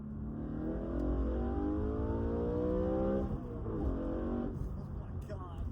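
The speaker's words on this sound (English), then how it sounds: "you get the exhaust in the back, you get the intake in the front" A BMW E9X M3 fitted with an Eventuri plenum and intake accelerates onto a highway, its engine note climbing in a loud rising rev with intake and exhaust roar, then shifting and pulling again at a steadier pitch.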